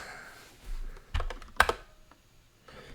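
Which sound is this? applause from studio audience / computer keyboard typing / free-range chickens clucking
computer keyboard typing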